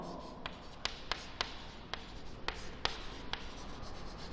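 Chalk writing on a board in a physics lecture classroom, a series of sharp taps and short scratchy strokes at an uneven pace, close and moderately loud with no talking.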